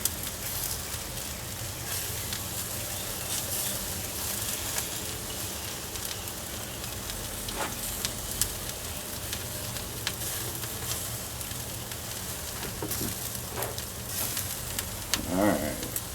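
Ribeye steaks sizzle and crackle steadily over an open flame on a grill, a dense, continuous frying hiss with occasional pops and a brief clatter near the end.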